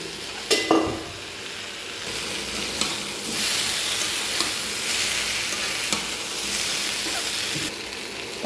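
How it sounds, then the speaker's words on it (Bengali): Fish, eggplant, potato and papaya curry being stirred in a pan: a steady close sizzle and hiss, with a few sharp spoon scrapes and clanks against the metal near the start and scattered through. "ঢাকনা তুলে আমি একটু নাড়া দিব।"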